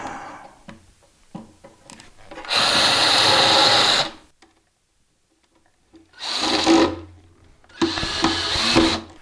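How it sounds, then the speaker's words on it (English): A power drill drilling pilot holes whirs in three steady bursts, each lasting a second or two, with short pauses and quiet handling noises between them. "Drill some pilot holes."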